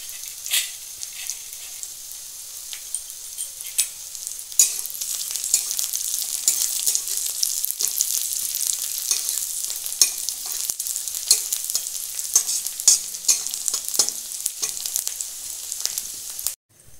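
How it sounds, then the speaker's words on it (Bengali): Onion and garlic frying in a pan, heard up close as a continuous bright sizzle broken by frequent sharp crackles and spatula scrapes, with no one speaking. "পেঁয়াজ রসুনটা ভাজা হয়ে গেছে"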